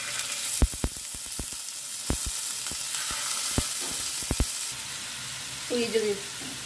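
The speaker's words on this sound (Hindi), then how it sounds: "अब एक करके चिकन की पीसेस को ना ऑयल में डाल देते हैं।" Chicken pieces drop one by one into hot oil, each landing with a sharp crackle before a steady sizzle and spitting settle in, close and fairly quiet, with a brief stir near the end.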